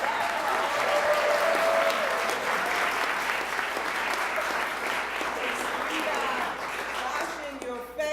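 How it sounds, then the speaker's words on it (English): A crowd at a public health month kick-off event breaks into sustained applause, a broad even wash of clapping that holds steady for several seconds before thinning out at the end. "Let's give them a round of applause for that."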